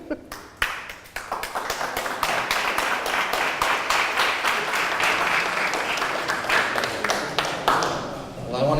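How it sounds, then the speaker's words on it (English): A crowd applauds steadily, dense clapping swelling quickly and holding strong throughout, with a few sharper individual claps standing out near the start. "Give them another round of applause."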